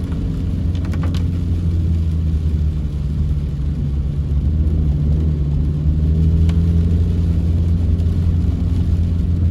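A car engine labours up a steep, slippery muddy hill in second gear, a loud, steady, close rumble that holds without letting up throughout.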